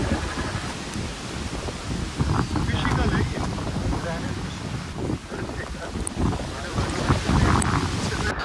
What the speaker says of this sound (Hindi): मौसम बिगड़ना शुरू हुआ और तेज़ हवा कब तूफ़ान में बदल गई